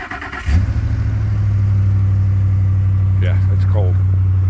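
A 1979 Ford F-150 Dentside pickup engine cranks and catches on a cold day, then settles into a loud, steady low idle close by, with a brief voice heard over the running engine.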